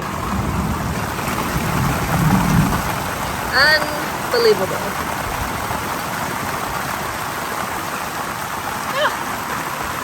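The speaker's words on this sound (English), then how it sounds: "And it is pouring again." Heavy June rain pours down on a camper's awning in a semi-desert climate near Kamloops, making a steady broadband hiss that runs the whole time, with a brief spoken exclamation and a few faint chirps over it.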